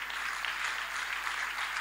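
A church congregation claps in steady, dense applause that fills the space at an even level, with no voices standing out above it.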